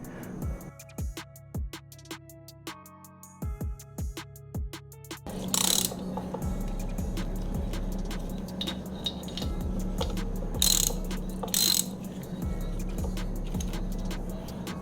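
Sharp metallic ratchet clicks loosening the flange bolts on a garage-built Harley-Davidson Screamin' Eagle 122ci Stage III engine, arriving in short repeated bursts at close range over steady background hum, with occasional clinks of tools.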